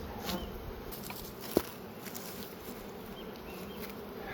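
Honeybees buzz in a steady low drone around an opened hive during a spring split of a full-size colony, with a single sharp knock partway through.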